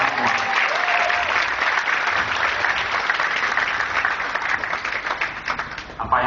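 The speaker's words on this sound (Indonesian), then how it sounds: "Aplaus untuk kita semua." Loud, sustained applause from a seminar audience fills the room without a break, dense clapping holding steady before thinning slightly near the end.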